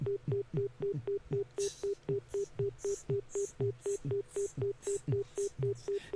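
Telephone dialing tones: a steady, rhythmic run of short electronic beeps at an even pace, fairly close and clear, with brighter hiss-like bursts layered over the middle stretch.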